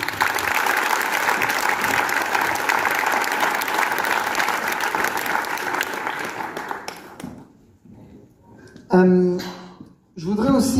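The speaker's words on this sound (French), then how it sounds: "on peut les applaudir bien fort" Loud sustained applause from a large audience at a festival closing speech fills most of the clip, then fades out and gives way to a few scattered sounds.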